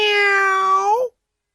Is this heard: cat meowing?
yes